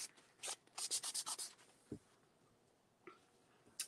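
A cloth wiping excess ink off a fabric block-printing block, heard as a quick series of soft, close rubbing strokes followed by a few scattered scuffs in a quiet room.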